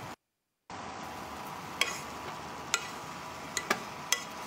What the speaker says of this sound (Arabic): نخلط كل المكونات هذه مع بعض عشان يختلط الرز مع الأشياء اللي تحت